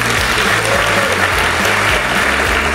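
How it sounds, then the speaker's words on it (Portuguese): Sustained crowd applause at a live comedy show, many hands clapping together in a dense, even wash at close range. "palmas pro nerd."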